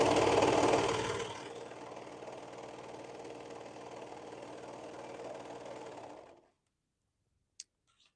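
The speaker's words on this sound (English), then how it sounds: "It's like speed sewing." A sewing machine stitches a hoodie at high speed, a loud rapid whirring run that stops abruptly and is followed by silence and a single faint click.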